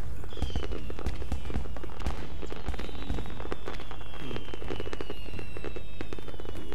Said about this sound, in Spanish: Ya veo, con los fuegos artificiales.